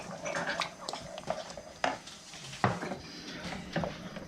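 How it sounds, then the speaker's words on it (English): Pectin stirred vigorously into a strawberry mixture in a pot, with a spoon scraping and clacking against the pot in an uneven rhythm, close and fairly loud, no voices. "I'm going to throw in the pectin and vigorously stir it so that we don't have any lumps"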